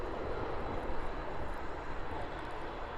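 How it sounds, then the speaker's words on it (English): A Hawaiian airliner on arrival from Auckland at Honolulu airport in high winds, a steady, broad jet roar heard at a moderate distance with no talk. "Next arrival will be a Hawaiian Flight 446 coming in from Auckland."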